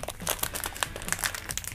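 Plastic packet squeezed and crinkled by hand to burst a small inner pouch, a cold pack: close, continuous crackling and crunching in quick irregular bursts with no voices.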